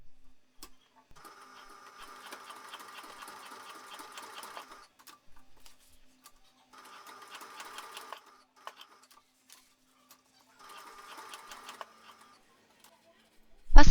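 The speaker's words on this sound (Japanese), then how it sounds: "ミシンで四角く縫い留めます。" A sewing machine stitches a square to secure a zipper tab on a 2-way tote bag sized for A4 files, running in three steady bursts of rapid mechanical whirring separated by short pauses, with a sharp clunk at the end.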